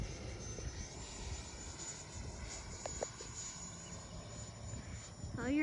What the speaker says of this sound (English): Slow your airplane down.